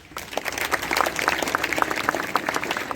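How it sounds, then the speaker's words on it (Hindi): An audience claps loudly to welcome a child at a village general knowledge competition event in Mathura, a dense burst of applause that builds quickly and holds steady. "जोर से ताली बजा के बच्चे का स्वागत करो।"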